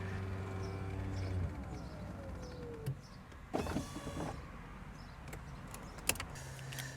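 The power soft top of a Porsche 987 Boxster opens, with a steady electric motor whine that shifts in pitch, then mechanical clunks and a sharp latch click near the end, close and moderately quiet.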